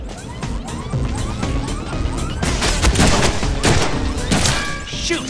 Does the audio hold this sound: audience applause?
no